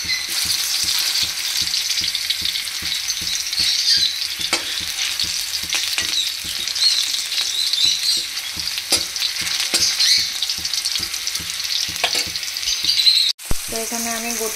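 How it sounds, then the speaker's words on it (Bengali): Onions fry in ghee with whole garam masala in a pan, giving a steady close sizzle with a regular rhythm of stirring scrapes and clicks throughout, then a sharp knock just before the end. "তো এখানে আমি গোটা গরম মশলা দিয়ে পেঁয়াজগুলো দিয়ে দিয়েছি"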